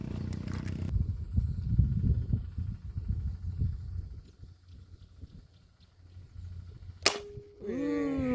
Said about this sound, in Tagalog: Malutong yung putok